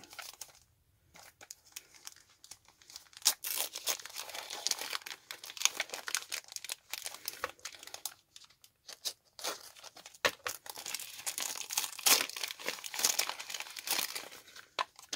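Paper and plastic wrapping being unwrapped from a birthday gift package with a silver ribbon, continuous close crinkling, crumpling and occasional tearing for the whole stretch, fairly quiet with no voice.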